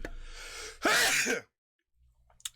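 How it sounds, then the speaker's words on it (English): A single loud, close human sneeze bursts out after a short breathy intake, then gives way to near silence with faint rustling. "I'm going to sneeze."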